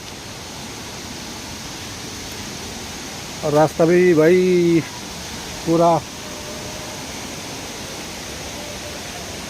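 Steady broadband roar of water pouring at a hidden waterfall in Karbi Anglong, Assam, constant and full throughout, with someone briefly talking over it midway.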